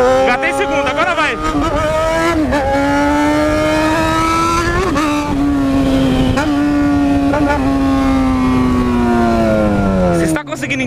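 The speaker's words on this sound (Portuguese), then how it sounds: "no acelerador de novo, 6 mil giros, hein? Engatei segunda, agora vai." Yamaha XJ6 motorcycle engine revving hard with rising pitch, dipping briefly at gear changes including a shift into second, loud and close throughout with someone talking over it.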